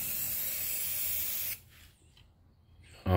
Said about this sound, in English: I like to do several light coats whenever I paint something.